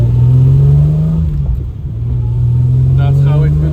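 A car engine rumbles steadily close by, with a brief drop in load midway before the revs build again; a voice talks over it.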